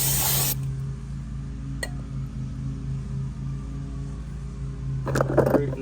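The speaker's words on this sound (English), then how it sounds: "You want to make sure you spray this down." A short burst of aerosol spray hisses at the start, then a steady hum fills the pause before a second brief spray near the end.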